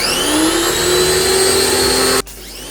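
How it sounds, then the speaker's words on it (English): A pressure washer sprays paint off an Acura TSX with a loud, steady whining rush. The spray cuts off abruptly near the end, leaving a quieter background. "Let's try to power wash this off"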